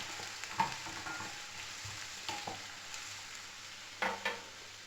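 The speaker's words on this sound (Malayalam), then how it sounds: "ഇതിലേക്ക് ഞാൻ ഒരു വലിയ സവാള കൊത്തി അരിഞ്ഞത് ചേർക്കുന്നുണ്ട്. കൂടെ തന്നെ കറിവേപ്പിലയും. ഇത് നന്നായി വഴറ്റി കൊടുക്കുക." Chopped onion and curry leaves sautéing in a pan for an egg curry, a faint steady sizzle with a few brief spoon scrapes and knocks against the pan, no voices.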